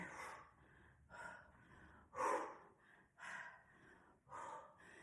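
Heavy, rhythmic breaths during a no-equipment workout, about six forceful exhales and gasps spaced roughly a second apart, close and clear with no talking.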